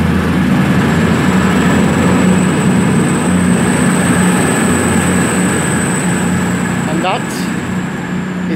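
A train pulls out of Derby station, a steady loud rumble and hum filling the platform throughout, with a faint high tone running over it and a brief squeal near the end.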